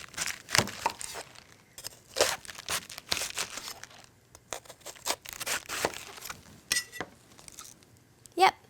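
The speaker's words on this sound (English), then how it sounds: "So I just like to cut it out here." A knife cuts the core out of a cabbage, making close, crisp crunching and crackling bursts in an irregular series with short quiet gaps between the cuts.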